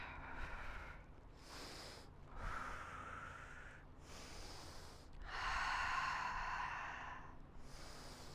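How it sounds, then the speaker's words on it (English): Slow, deep breaths held during a yoga stretch, each long exhale and inhale loud and close, arriving about every second or two with quiet gaps between them and no talk. "take a couple more breaths here"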